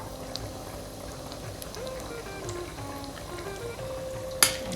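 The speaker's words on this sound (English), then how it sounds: "And fry them until it's done." Coconut bits frying in ghee in a pan, a soft, quiet steady sizzle with faint crackles and one brief clink of a utensil near the end.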